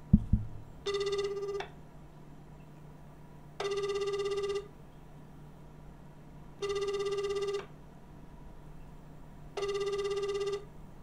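Outgoing phone call ringback while calling to complain about a cancelled Uber Eats steak order: four evenly spaced ring bursts over a quiet background, with a brief knock at the very start and no talking.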